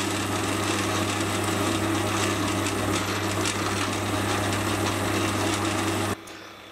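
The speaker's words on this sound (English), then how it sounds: "I'll now take advantage of the center being drilled out by counterboring to the depth of the annular cutter shank." A lathe counterbores a drilled center with a non-center-cutting end mill, giving a loud, steady machining hum and hiss with a constant low tone that runs evenly and cuts off abruptly near the end.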